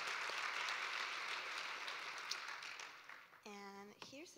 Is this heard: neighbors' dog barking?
no